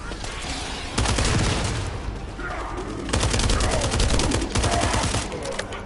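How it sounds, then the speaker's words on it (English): Video game gunfire crackles in dense automatic bursts, loud and close, with two sustained volleys separated by a brief lull and occasional faint voices in the background. "That stopped the gunfire."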